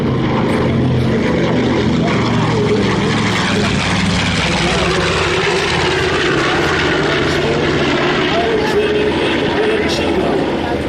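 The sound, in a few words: B-25 bomber aircraft engine at airshow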